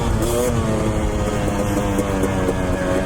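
Two-stroke motorcycle engine running loud and steady with a sustained buzzing drone and layered harmonics, rising slightly in pitch, with wind rush over the microphone throughout.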